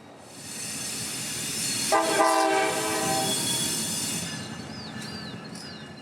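A CSX freight train rumbles steadily nearby as a loud, multi-tone horn blasts for a couple of seconds, followed by faint high wheel squeals over the continuing roar, near the port rail line in Tampa.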